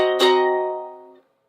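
A half-diminished seventh chord struck once on a keyboard instrument, ringing clearly with a sharp attack and decaying for about a second before cutting off into silence.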